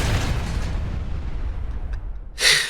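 A seismic charge and a bag of pipe bombs go off in the space station game SS14, a loud booming blast that rumbles and fades, then a sharp bright burst near the end.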